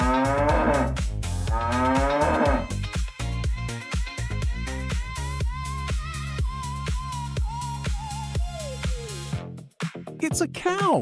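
A cow moos in a few long, loud lowing calls, with musical accompaniment and a voice imitating the moo near the end.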